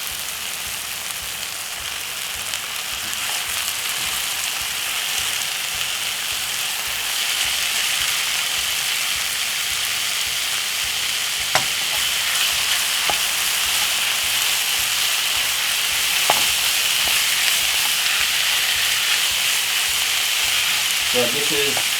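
Minced meat sizzling and frying in a hot pan at home, a steady close hiss throughout with occasional faint stirring clicks and no talking.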